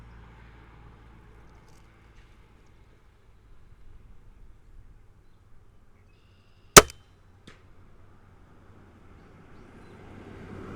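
A crossbow fitted with an Intensity 1.5-5x32 scope fires a single sharp, loud crack outdoors, followed a moment later by a fainter snap, with quiet rustling before and after.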